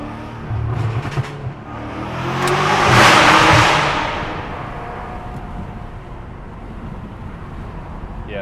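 BMW M5 accelerating hard, its intakes roaring as engine noise builds to a loud peak, then easing off into steady road and cabin rumble.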